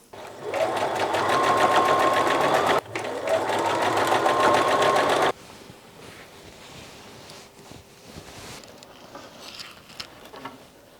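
Sewing machine running a straight stitch along a quilt row: two loud, close bursts of rapid stitching with a short break between, then quieter room noise with soft handling sounds.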